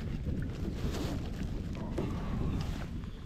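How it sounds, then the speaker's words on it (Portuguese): A headwind buffets a boat on a reservoir, making a constant rumbling wind noise close to the microphone with faint water sounds underneath and no talking. "Temos um irritante vento contra, mas não é nada demais."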